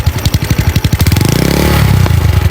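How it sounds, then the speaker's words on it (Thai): A Honda Wave 125S motorcycle with a stock-size piston and straight-through exhaust blips and revs up hard, its loud, raspy exhaust climbing in pitch and then dropping back to a throaty idle. "เดี๋ยวลองเบิ้ลให้ฟังเสียงกันเลยนะครับ"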